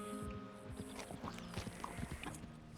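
Hooves clip-clopping in Red Dead Redemption 2 as a horse walks in steadily at moderate distance, clustered hoof strikes repeating over a layered game backdrop with occasional mechanical clinks.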